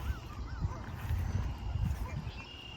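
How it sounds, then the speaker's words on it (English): Geese honking at some distance outdoors in a garden, a few rising calls over a low rumbling background, faint under a voice. "You hear our geese over there."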